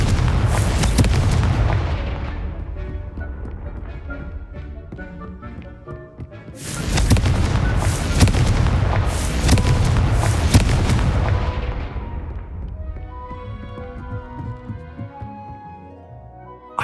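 Repeated blasting explosions from the Confringo spell in the video game Hogwarts Legacy, heavy booming bursts that rumble in two loud waves with a layered musical score, fading toward the end.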